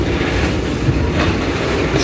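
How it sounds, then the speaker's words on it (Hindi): A passenger train pulled by a ZCU 30 locomotive departs Shorkot Cantt junction, a loud, close, steady rumble of wheels and carriages rolling along the rails with a faint clatter and no talking. "MCA 8 up Shorkot cantt junction से रवाना हो रही है।"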